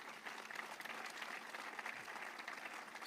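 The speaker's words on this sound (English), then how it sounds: "And may we all clap in honor of our Foreign Ministry." Audience applause honoring the Foreign Ministry at an Independence Day reception for diplomats in Israel, a steady, dense clapping crowd, fairly faint and distant, continuing evenly throughout.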